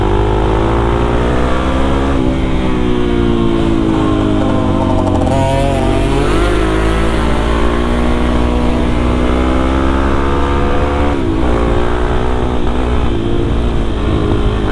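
Supermoto motorcycle engine ridden at night on roads around Lembang, loud and close throughout, with rising and falling revs as it accelerates and shifts, other bikes sometimes audible nearby.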